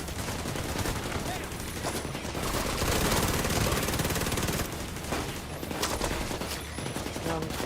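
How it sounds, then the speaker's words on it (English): Dense, continuous gunfire from The Division 2, with overlapping bursts and rapid automatic shots filling the whole stretch, loud and close, with faint voices mixed in. "Possibly shooting at me now."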